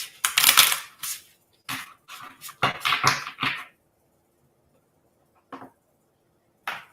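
Oracle cards are shuffled and handled in short papery bursts and riffles, with several clustered clicks and flutters separated by brief silences, close and fairly crisp, with no talking.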